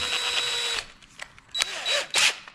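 A power drill whines at high speed, stops, then revs again in short bursts as it bites into a steel frame lubricated with oil, close and loud.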